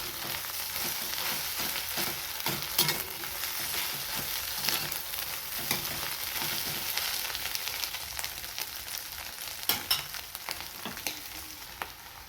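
Egg and rice roasting in a pan, pressed down and stirred: a steady close sizzle with scattered scraping clicks of the spatula throughout, no voices.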